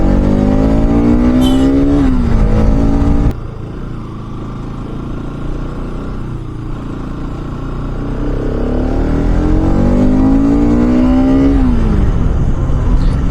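A Bajaj Pulsar motorcycle engine labours up steep hairpin bends on a hill road, loud and close, with a rising rev, a sudden drop around a gear change, then a steady drone that builds again with another climbing rev.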